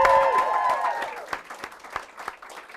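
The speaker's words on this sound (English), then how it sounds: "Let's give them another round of applause." A show audience claps for performers at a campus variety night. A brief musical tone fades at the start, then scattered, fairly sparse claps thin out toward the end.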